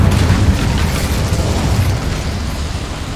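Incendio fire spell blast in Hogwarts Legacy: a loud, booming burst of flame that roars and rumbles steadily for about three seconds before easing slightly, with no talk.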